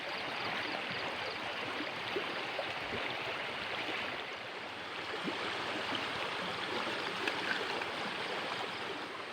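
Water is scooped from a stream in rural Laos, with a steady broadband rush of flowing water and splashing that runs the whole time, fairly close and with no talk over it.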